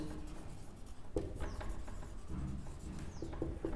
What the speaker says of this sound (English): So we write the given points.